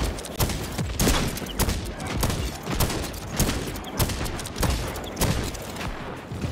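Rapid bursts of gunfire from a weapon in the video game Second Extinction, dense and continuous with repeated sharp shots and booms filling the whole stretch, no talking over it.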